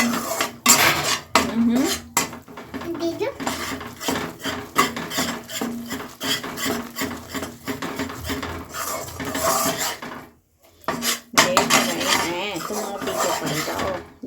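A metal spoon scrapes and clinks against a pan while melting jaggery syrup is stirred for puffed-rice laddoos, in repeated rhythmic strokes with a brief pause near the end.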